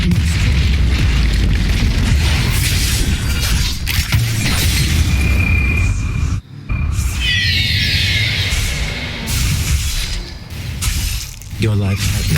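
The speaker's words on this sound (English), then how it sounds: "Turret has been destroyed." A turret being destroyed in the League of Legends video game, a booming in-game explosion with crumbling debris layered in dense game audio and music, with a brief dip then continued effects and a spoken game announcement.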